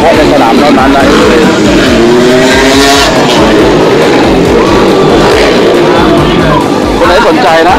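KSR motorcycle with a KR engine and a track-only WRC exhaust pipe, revving loud and continuous at a contest show, a dense raw roar with pitch rising and falling and a crowd underneath.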